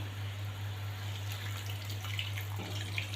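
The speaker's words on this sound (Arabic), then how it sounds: "وبعدين هنضيف المية" Water pours steadily into a cooking pot holding onion and cumin for Egyptian fatta broth, a continuous close splashing stream with a constant low hum underneath and no voices.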